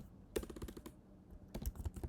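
Someone types a command on a computer keyboard in quiet, rapid bursts of light clicks, with a short pause between two runs of keystrokes.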